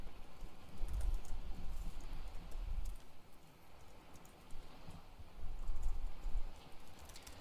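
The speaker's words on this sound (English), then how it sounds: "So I'm just gonna type run," Soft, fast typing on a computer keyboard at a gaming setup, with irregular runs of light key clicks that rise and pause over several seconds, fairly close and fairly quiet.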